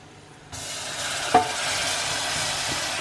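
Butter sizzling in a pan after a quiet start: a sudden steady hiss begins about half a second in, with one sharp clink shortly after, then a continuous close sizzle.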